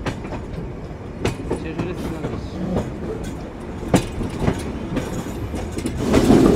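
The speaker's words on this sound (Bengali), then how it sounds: "সুবিশাল একটি কার্ভের সাথে আমরা ডিপার্চার নিচ্ছি ঈশ্বরদী জংশন রেলওয়ে স্টেশনের" The Chitra Express pulls out of Ishwardi Junction station from platform 4 on a long curve, with steady onboard rumble, rhythmic wheel clacks and occasional sharp rail knocks, heard from inside the carriage.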